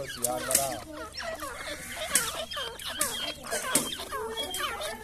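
Domestically bred partridges (teetar) kept like chickens in a house, giving repeated clucking, chattering bird calls at close range, with other faint birds and background voices mixed in.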